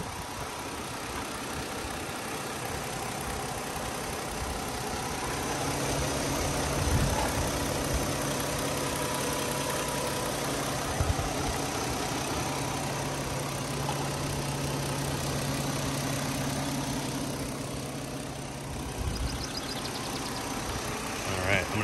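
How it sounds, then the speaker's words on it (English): A 2009 Kia Rondo EX V6 idles steadily with the hood open, a constant low engine hum running unchanged throughout at close range, with no talk. "I'm going to stand here for maybe 10 or 15 seconds, let you listen to it at idle"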